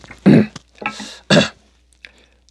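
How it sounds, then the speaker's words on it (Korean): A man with chronic bronchitis from years of past smoking coughs three times in hoarse, separate bursts, close and loud, followed by quiet. "제가 기침 나오기 시작하면"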